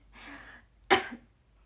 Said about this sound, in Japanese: ごめんちょっと咳込んでもった